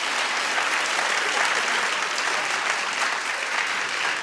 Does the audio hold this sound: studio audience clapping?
yes